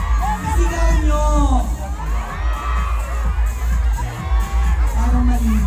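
A large crowd at the 2024 MMFF Parade of Stars cheers, whoops and shouts continuously, loud and dense, with children's high cries rising above the roar.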